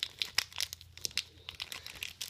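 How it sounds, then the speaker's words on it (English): A small foil pack of trading cards being torn open by hand, crisp crinkling and tearing crackles in short irregular bursts, close and quiet. "so we're about to open a pack of 4 cards."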